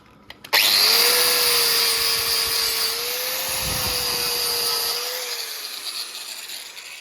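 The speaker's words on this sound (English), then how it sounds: "Take this grinder." A handheld grinder takes surface rust off an old Honda Civic during a restoration, spinning up sharply into a loud sustained whine that holds for several seconds and then winds down.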